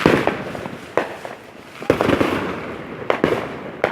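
A Dragon firework on the Fourth of July crackles and bangs through a series of sharp reports, roughly five loud pops spaced irregularly over a hissing, crackling bed, fairly close by.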